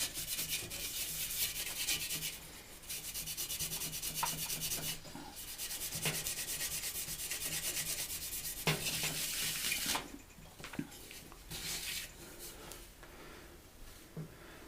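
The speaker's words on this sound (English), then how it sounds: "It does clean off quite well with a Scotch pad." Someone scrubs a Triumph Tiger 800 motorcycle exhaust with a Scotch pad, making a close, steady abrasive rubbing in back-and-forth strokes. There are brief pauses and shifts in pressure.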